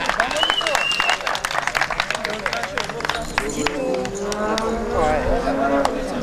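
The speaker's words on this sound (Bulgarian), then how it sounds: "Аплодисменти за мечовците!" Spectators clap for the third-place team at a municipal football tournament award ceremony, a busy patter of hands under loud crowd chatter and an announcer's voice, with children's voices and shouts rising toward the end.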